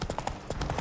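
Horse hooves clip-clop in The Witcher video game, a quick steady run of hoofbeats in a brief burst, close and moderately loud with no talk.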